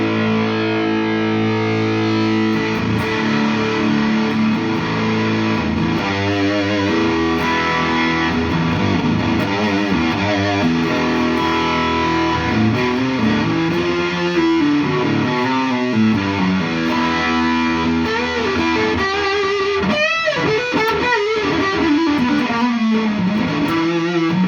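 Electric guitar played on the bridge pickup through a Mosky Black Rat distortion pedal at high gain, a loud, saturated and muddy tone with a steady hiss beneath sustained chords and bending notes, no talking.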